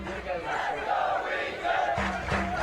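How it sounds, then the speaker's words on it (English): Student section crowd at a Wheaton men's soccer match against Kalamazoo chanting in rhythmic unison, a steady roar of massed voices with clapped beats. "Let's go Wheaton chants starting to be heard from the student section"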